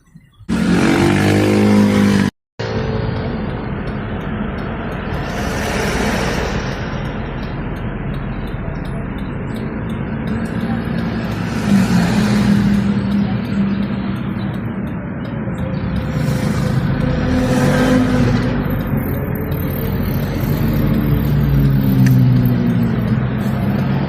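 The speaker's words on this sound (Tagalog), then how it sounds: "Traffic na tayo sa SM Taytay." Road traffic near SM Taytay, a shopping mall in Taytay, makes a continuous rumble of car engines and tyres for over twenty seconds, steady and fairly loud, with no voices.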